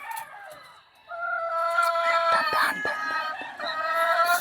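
Blue Face Hatch pullets cluck and call nearby, with overlapping drawn-out tonal cries and scattered scratchy rustling in a coop, fairly loud and steady, with no speech.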